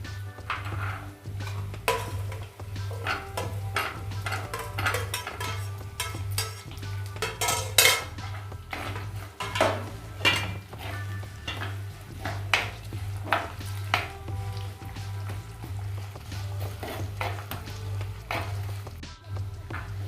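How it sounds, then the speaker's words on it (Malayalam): About ten small onions are sautéed with curry leaves in a pan and stirred repeatedly. Clanks and scrapes of the utensil come in an irregular rhythm over a faint sizzle and a low steady hum. "ഇനി നമുക്കിതിലേക്ക് ഒരു 10 കൊച്ചുള്ളിയും കൂടി ഇട്ടൊന്ന് വഴറ്റിയെടുക്കാം."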